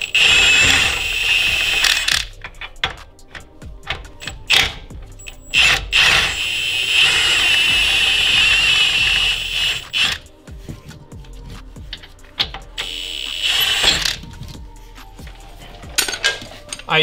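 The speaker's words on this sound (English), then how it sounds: "I use the impact on it to drive it out." An impact wrench drives out a 21 mm suspension bolt on a BMW E90, giving loud, close bursts of rattling hammering separated by short pauses and clanking tool noises.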